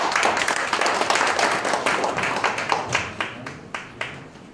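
Applause rises from an audience at an environmental awards ceremony in a hall, dense hand clapping that thins near the end into a few separate, sharper claps.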